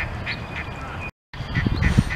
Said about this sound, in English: It's sitting on the roof quacking.